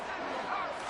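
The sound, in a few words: home crowd cheering in an American football video game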